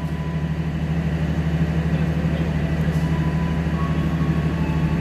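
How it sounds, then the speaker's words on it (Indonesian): A train with a boxy-nosed locomotive pulls into Kutoarjo station on track 2, giving a steady loud engine drone with a strong low hum and constant rumble, close by, with no talking. "Ada kereta yang akan masuk stasiun Kuto Arjo di jalur nomor 2."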